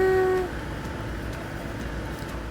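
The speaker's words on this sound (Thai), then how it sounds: "รถไฟออกตัวแล้วนะจ๊ะ" A train pulling away from a station gives a brief horn toot, then a steady, fairly loud low rumble of the moving carriages that continues evenly to the end.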